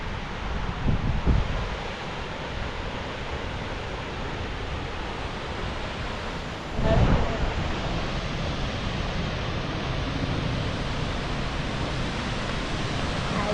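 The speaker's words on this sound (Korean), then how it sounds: "여기는 들어오자마자 폭포를 이렇게 좀 볼 수 있네요" Victoria Falls waterfall roaring as a dense, steady broadband rush, loud and unbroken for over thirteen seconds with a couple of brief wind buffets.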